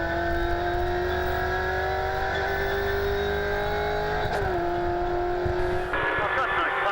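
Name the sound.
V8 race cars, Ford Falcon and Holden Commodore, racing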